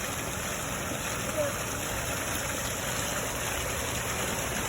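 A small DIY RC air boat motor drones steadily with a high, whiny edge over a wash of splashing water, continuous and fairly loud throughout.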